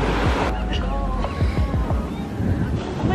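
Cold Pacific surf washes onto a San Francisco beach, a steady rush of breaking waves with gusty wind buffeting the microphone.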